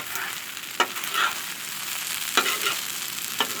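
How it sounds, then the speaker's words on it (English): Fried rice sizzles steadily on a Blackstone flat-top griddle, with three sharp spatula scrapes and clacks as it is stirred and flipped, close and fairly loud. "You want to make sure you keep it stirred, keep it stirred, and keep it flipped, and your fried rice is going to be a success."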